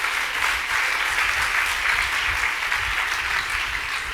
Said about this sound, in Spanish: Dale un buen aplauso de alabanza a Jesús